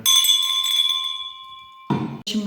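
A bell gives one clear ring that sustains and slowly fades over a school celebration for Education Workers' Day, followed by a couple of brief louder bursts of sound near the end.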